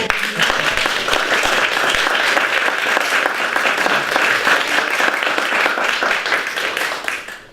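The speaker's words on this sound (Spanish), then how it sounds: "Un aplauso." Loud, dense clapping from a conference audience in Colombia, continuous for several seconds before tapering off abruptly at the close.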